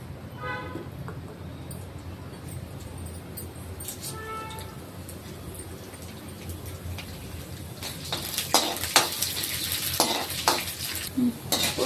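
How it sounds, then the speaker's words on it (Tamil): Urad dal hits hot oil in a kadai, with quiet stirring scrapes and a few tonal beeps at first, then a louder crackling sizzle with clinks building toward the end, close up. "ஆயில் கடாய் ஹீட் ஆனதுனால உளுத்தம் பருப்பு போட்டுக்கோங்க."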